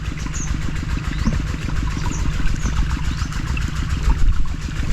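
An engine revs on a rice farm, a steady low throbbing rumble with a regular pulsing beat that holds at a constant loud level throughout, with no voices.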